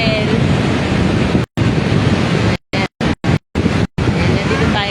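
Sea waves roll in at a public beach in Catarman, Northern Samar, Philippines, a loud, steady wash of surf mixed with wind buffeting the microphone, broken by a few brief dropouts.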